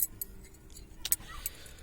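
Two 10 mm wrenches clink and jangle against each other and the metal fittings while being handled at a BRC Sequent LPG injector on a car's rail, a few sharp faint metallic taps over quiet background.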